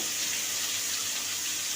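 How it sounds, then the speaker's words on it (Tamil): A kitchen tap runs in a steady, unbroken gush, the water pouring out at double volume from the RO filter outlet, close and constant with no voices. "அப்படியே டபுள் மடங்காக தான் அந்த ஆரோவிலேருந்து தண்ணி வெளியில் வருது"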